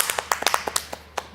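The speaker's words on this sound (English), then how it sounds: "We get a round of applause for the end of the group stage." Audience clapping after the end of the group stage at a Dota 2 esports tournament, The International 10, heard as a short scattered run of sharp claps rather than a full crowd roar.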